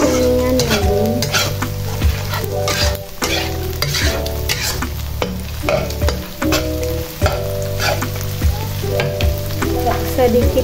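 Eggs fry in a hot pan with basil and chili, sizzling loudly and steadily while a utensil stirs and scrapes them in repeated strokes close up.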